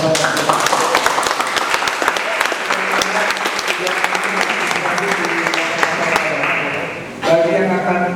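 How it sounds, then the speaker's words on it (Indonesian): An audience at an Indonesian work-experience presentation applauds for Pak Sambulan, a full, sustained round of clapping lasting several seconds, fading briefly before a short burst at the end, with a voice speaking over it. "rekan-rekan kita berikan aplaus lagi untuk Pak Sambulan"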